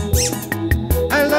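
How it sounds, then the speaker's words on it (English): A squeaky dog toy squeaks repeatedly in quick, uneven bursts, loud and close, around a pen where Bullmastiff puppies are playing. "I love that squeaky sound."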